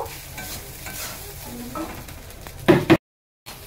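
Chirer polao, a Bengali poha dish, is stirred in a hot pan, producing close scraping and frying crackle that builds to a few louder scrapes before a brief silence and a last stir.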